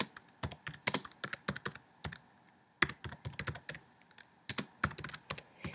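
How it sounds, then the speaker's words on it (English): Steady typing on a computer keyboard, with rapid, irregular runs of crisp close clicks, brief pauses between bursts, and no voices. "you might just type your assignment right in this space."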